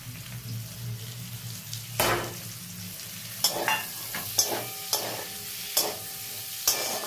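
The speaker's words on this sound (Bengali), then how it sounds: "এবার পেঁয়াজগুলো দিয়ে দেবো।" Onions frying in a pan for egg chow mein, with a steady sizzle under several sharp stirring scrapes and clanks from the spatula, close and fairly loud throughout.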